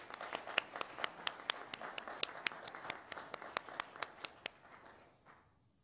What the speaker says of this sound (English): join me in thanking them with a round of applause for their support for this lecture